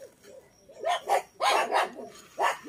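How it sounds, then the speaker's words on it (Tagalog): A dog barks several times in short bursts at a visitor arriving at a house, fairly loud and close, with brief pauses between the barks. "Maingay yung aso namin. May tao kasi."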